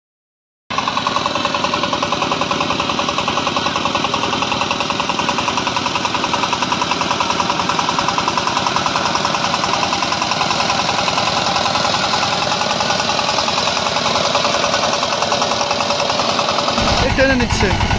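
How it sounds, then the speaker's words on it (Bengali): Heavy duty 4x4 engine trolley running in reverse gear, its engine chugging with a steady knocking rhythm that sets in abruptly and runs loud and continuous throughout. "ব্যাক গিয়ার চলছে দেখুন, ব্যাক গিয়ার চলছে সুন্দর"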